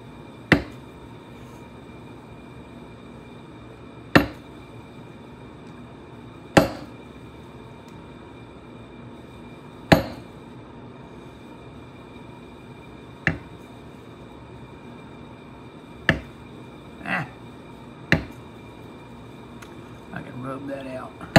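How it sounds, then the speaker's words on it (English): A metal camouflage tooling stamp is struck into leather during Texas-style floral tooling, giving sharp isolated taps spaced a few seconds apart, around eight in all, over a steady background hum. "go around it with a little camouflage tool."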